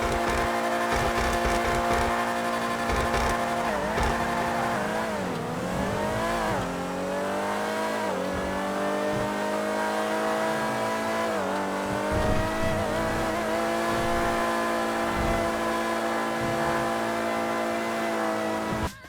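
Dewbachee Vagner sports car in a racing video game, engine droning loud and steady for the whole stretch with revs rising and falling through several gear changes, no voices over it.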